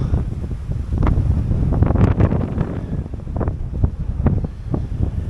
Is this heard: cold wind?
yes